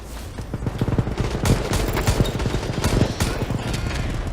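Rapid gunfire in the video game World War 3, a dense, loud stream of automatic shots rattling continuously for several seconds.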